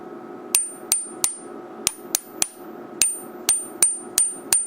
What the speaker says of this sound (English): I'm just going to strike it with the edge of this screwdriver here